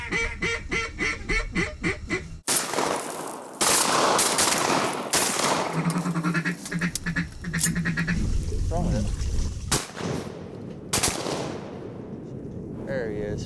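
Loud shotgun blasts ring out over a duck-hunting spot on the water, several sharp reports in quick succession amid duck quacks, splashing and excited voices of hunters talking around them.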